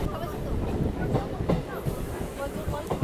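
A local train on the Barddhaman to Katwa line rumbles along steadily at moderate loudness, with rhythmic clatter and occasional clanks from the carriage and faint background voices.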